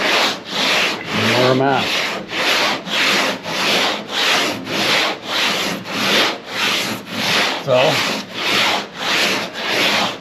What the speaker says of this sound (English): I just keep sanding until I get rid of anything that doesn't look like a Power Wagon door